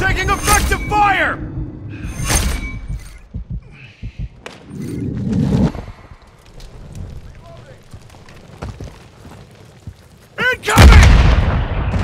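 Gunfire in Modern Warfare 3 multiplayer comes as scattered bursts and sharp cracks, some near and some distant, with a heavy close blast at the end. Game radio voices talk over much of it.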